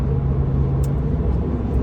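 From inside a van driving down the road comes a steady, low engine and road rumble with a constant drone, loud and unbroken.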